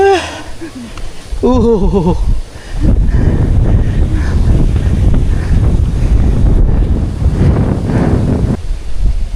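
Loud, constant strong wind buffets the microphone with a deep rumbling roar on a mountain hike up Mt. Napulak, broken by a brief voice near the start.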